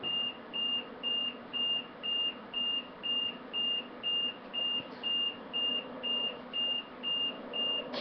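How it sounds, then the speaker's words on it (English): A vent gives a steady string of short, even electronic beeps, about two per second, over a constant background hum, with no talking. "that's my vent beeping there"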